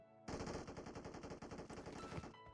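Sustained automatic gunfire in PUBG Mobile, a rapid burst of close shots rattling without pause for about two seconds, loud and dense, no talking over it.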